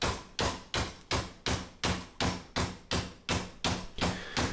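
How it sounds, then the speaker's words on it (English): A rubber mallet hammers a clamped steel sheet into a 90-degree bend, with twelve loud, evenly spaced blows ringing one after another and no talk. "Side number two gets hammered, just like number one."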